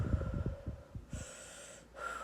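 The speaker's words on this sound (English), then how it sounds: "I start breathing." A person breathes deliberately and loudly to calm down, a series of short audible snorting breaths and exhalations close up, then quieter.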